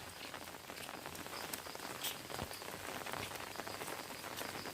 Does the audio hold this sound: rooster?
no